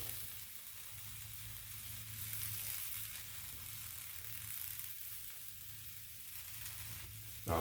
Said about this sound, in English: first I'm gonna put my broccoli on the grill